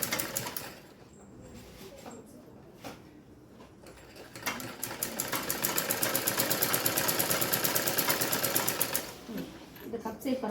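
A sewing machine stitches a blouse in short bursts at first, then runs in a long, steady, rapid rattle before slowing. It sounds close and moderately loud, and someone talks over the start.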